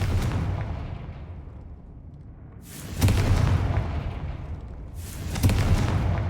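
Spell explosions from Bombarda and Confringo in a Harry Potter video game, two loud broadband booming blasts about two and a half seconds apart, each rolling out over a low rumbling background.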